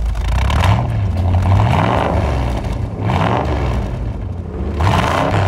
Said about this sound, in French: Voilà ce que c'est que le bruit d'un V8 Mustang.